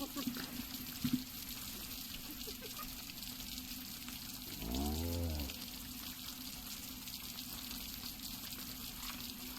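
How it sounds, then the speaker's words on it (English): Steady rain and water hiss through the Eternal Enemies game world as it begins raining, a continuous wash of noise with a brief deeper voiced call rising partway through. "Oh, hey, it's raining."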